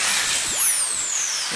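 Power drill boring into a metal clothes drying rack being converted into a portable reflector, a close, loud whine with the motor pitch swooping down and back up over a short burst, no voices.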